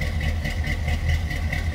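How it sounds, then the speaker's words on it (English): A 1971 Chevrolet Monte Carlo with a cammed 350 V8 and Flowmaster exhausts runs at idle, giving a steady, deep, throbbing rumble with a slightly lumpy pulse. It is close and continuous, with no talking. "Hear it run. A little cam in that 350 underneath the hood. Flowmasters underneath there."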